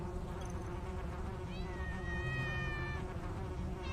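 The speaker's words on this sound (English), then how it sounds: "that cat noise is actually a little bit annoying now" A thin, rising and wavering meow from a cat in the video game Tales of the Neon Sea sounds over a steady, dense background hum, fairly faint and drawn out for a couple of seconds.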